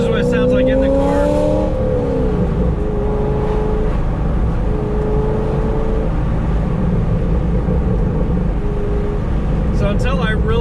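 Inside a Corvette Grand Sport fitted with long tube headers, the engine drones steadily with rising and falling pitch as the car drives, a continuous loud rumble throughout with a brief voice near the start.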